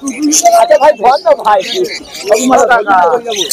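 Caged birds, including budgerigars, chirp and call at a pet market in Uluberia, with bright warbling bursts over someone talking close by.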